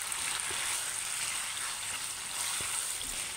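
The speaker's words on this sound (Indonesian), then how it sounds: "Ini kita masak sampai airnya menyusut." Chicken simmering in a pan as its released liquid cooks down, a steady close bubbling sizzle with a few soft stirring knocks, continuous and moderately loud with no talking.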